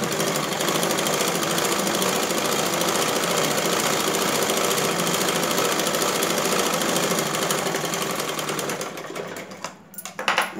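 A sewing machine stitches a blouse seam with a steady, loud, fast mechanical whir that runs unbroken, then slows and stops near the end. No one speaks.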